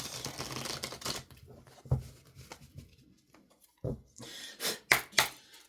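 Tarot cards being shuffled and handled, with crisp papery slaps and riffles in bursts, some soft taps between, close up and without any talk.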